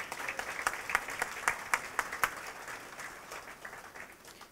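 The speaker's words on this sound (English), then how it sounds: "Let's give them a round of applause." An audience at a high tea party gives a round of applause, with quick, crisp claps that peak early and then slowly thin out and fade toward the end.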